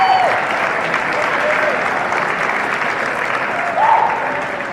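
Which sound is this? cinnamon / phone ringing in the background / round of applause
round of applause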